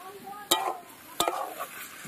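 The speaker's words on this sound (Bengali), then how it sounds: "মশলা, ধোয়া জল, সব কিছু দিয়ে সব মশলার সাথে মাংসটা একদম ভালো করে কষিয়ে নেবো" Chicken pieces are stirred with spices in a hot pan, giving soft sizzling under a couple of sharp scrapes and clatters of the spoon against the pan, close and quiet.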